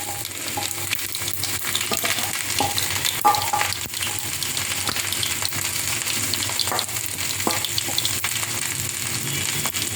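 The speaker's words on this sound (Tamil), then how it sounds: "கறி வதங்கிட்டு இருக்கு." Okra fry sizzles steadily in a pan with turmeric. The dense, continuous frying sits close, with faint clinks and stirring scrapes scattered through it and some background water noise.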